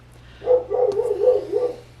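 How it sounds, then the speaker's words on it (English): A dog barks several times in quick succession, a rapid string of four or five yips and woofs at close range over a faint low hum. "Apologies for the dog barking."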